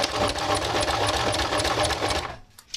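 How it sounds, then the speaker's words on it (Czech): Close, loud whir of a sewing machine fitted with a walking foot as it sews a top's sleeves, running steadily for over two seconds before stopping abruptly. "Mám kráčející patku, protože s ní se šije líp a lépe to podává."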